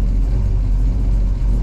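1972 Plymouth Cuda engine rumbling deep and steady while driving onto the highway, loud and close with a continuous low roar and no speech.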